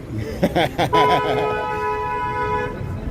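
A car horn sounds a sustained, steady honk on a Chicago city street, preceded by a few short toots, loud and close over street noise and a nearby voice.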